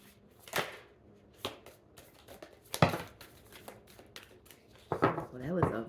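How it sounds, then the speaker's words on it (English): Tarot cards being shuffled up close: a run of soft, papery riffles and flaps in uneven bursts, quieter between them, with a brief voice near the end. "Well, that was a really floppy shuffle,"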